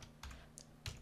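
Code being typed on a computer keyboard, heard as a few faint, close key clicks spread over about a second, with no talking.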